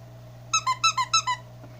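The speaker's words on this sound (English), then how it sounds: "we got this skunk that has a squeaker in its butt and the squeaker in its head" A squeaky plush skunk dog toy is squeezed six times in quick succession, sharp close squeaks over quiet background hum.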